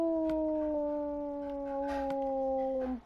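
Wolf howling in a video game cave, one long sustained tonal howl sliding gently downward over about three seconds, clear and prominent over a faint background.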